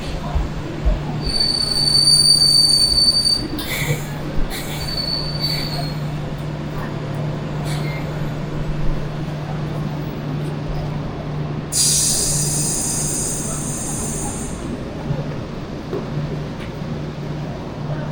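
A train squeals on its wheels at a small local station in Kamakura. The high metallic screeches come in bursts over a constant low rumble, and a long squeal rises near the end.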